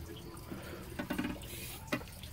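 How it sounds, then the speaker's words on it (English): Water runs steadily into the tank of a 100-year-old toilet, a soft continuous trickle and splash from close by, rising in a couple of brief surges. "Fill up the tank to its appropriate level."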